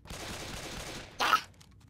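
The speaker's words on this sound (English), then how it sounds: "I will shoot a gun if you don't go away!" Gunfire in the video game Left 4 Dead, a brief loud burst of shots cutting through a soft, steady hiss, then fading quickly.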